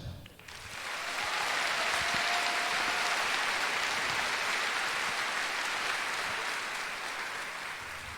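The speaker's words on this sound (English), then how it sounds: "We would also like to give a round of applause to the Des Moines Isisarettes" An indoor audience at a fashion show bursts into sustained applause, a dense, steady wash of clapping that swells quickly and slowly tapers.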